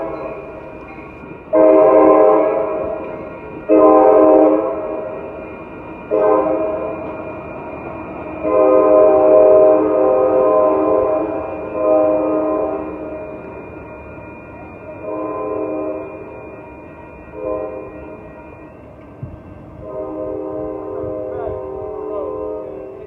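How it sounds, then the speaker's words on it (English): An Amtrak Capital Corridor 540 passenger train passes loudly, its horn sounding in a series of long, strong blasts of varying length over the rumble and clatter of the moving cars. "This is Amtrak Capital Corridor, 540."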